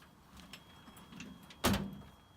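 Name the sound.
tent trailer door being raised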